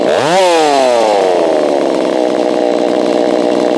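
A Holzfforma G660 chainsaw, running poorly, revs up sharply and then settles back toward a loud, buzzing idle that carries on steadily and close by, with no talking.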